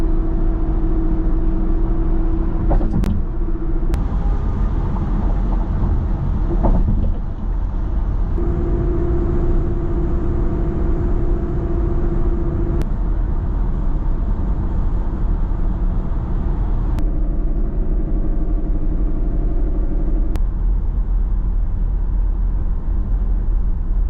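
New car tires roll along the road, heard from inside the vehicle as a constant low rumble with a faint steady hum and a few sharp clicks, and no one speaking.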